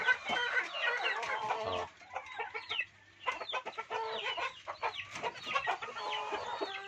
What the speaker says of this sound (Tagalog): Ang dalawang manok ko native yan, native. Native pero pinapalayan ko ng Rhode Island.